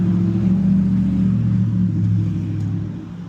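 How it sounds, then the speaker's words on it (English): A 2014 BMW S1000RR motorcycle idles close by with a loud, steady low rumble that fades slightly toward the end, with no talking over it. "We have the 2014 BMW 1000 Double R."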